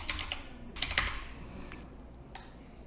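Keys tapped on a computer keyboard while a login ID is entered, several quick clicks in short bursts with pauses between, close and moderately quiet.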